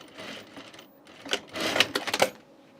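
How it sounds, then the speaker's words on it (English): A home sewing machine stitches a backstitch on a men's button-up shirt placket, giving a quiet whir followed by a louder burst of rapid mechanical stitching and a few clicks. "I keep going over here to backstitch because of my home machine now"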